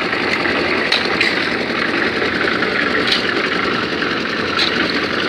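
A cement mixer drum turns steadily, churning cement, sand, gravel and water into mortar, with a constant mechanical rumble and faint periodic clunks as the load tumbles; no talking.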